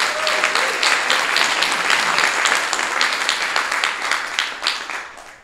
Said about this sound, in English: How about an applause for Keen?